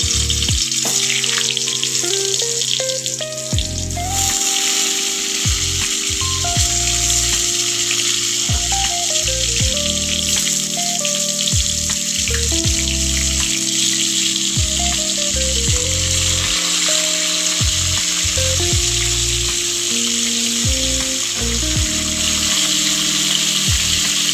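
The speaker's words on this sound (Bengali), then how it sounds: "এবার আমি একে একে পটলগুলো আস্তে আস্তে তেলের মধ্যে ছেড়ে নেব।" Pointed gourd (potol) pieces sizzle and fry in hot oil in a wok, a loud, continuous crackling that runs throughout, with occasional clinks and stirring scrapes from a utensil.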